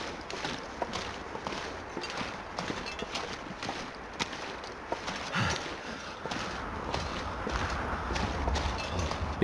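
Running footsteps in the survival game The Long Dark on Interloper difficulty, a quick, steady series of soft steps under gusting wind.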